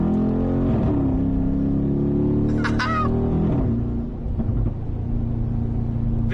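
Mercedes-AMG G63 V8 engine roaring steadily while driving, a loud, continuous low rumble with rising and falling revs and a brief burbling crackle midway.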